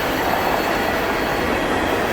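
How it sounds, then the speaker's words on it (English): A manifest freight train rolls past close by with a loud, continuous rumble, wheel noise and rail clatter. No voices are heard. "Manifest freight train."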